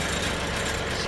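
A John Deere 2038R compact tractor's engine runs steadily at close range while driving over a lawn, a continuous low rumble with mild vibration and no pauses.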